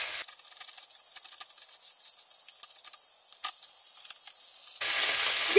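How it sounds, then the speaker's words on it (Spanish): Rice browning in a frying pan before puréed tomato is added, giving a steady, fairly quiet sizzle with faint crackles throughout, growing a little louder near the end. "vamos a reservarlo en lo que se acaba de dorar nuestro arroz"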